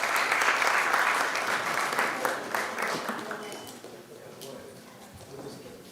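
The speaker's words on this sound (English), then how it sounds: "Maybe please have a round of applause." An audience at a jewelry industry trade symposium applauds, with steady clapping that is loud at first and gradually thins and fades over several seconds.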